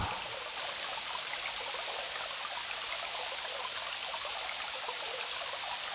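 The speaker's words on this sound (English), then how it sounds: "A beautiful stream ripples through these stately trees." A steady stream ripples and trickles through trees in the video game King's Quest III Redux, a continuous, even wash of flowing water that holds without pause from start to end.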